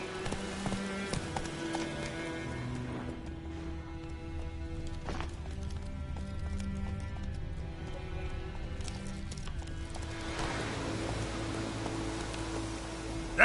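Roach, the horse in The Witcher 3: Wild Hunt on PS5, gallops steadily with a continuous run of clip-clopping hooves over a dense bed of game music and ambience, running unbroken for the whole stretch.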